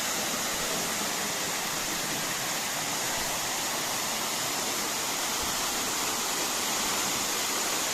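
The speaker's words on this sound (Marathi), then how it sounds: "बाजूला असणारा हा धबधबा आहे इकडे" A waterfall beside a cave temple gives a continuous, even rushing roar with no breaks, steady and fairly close.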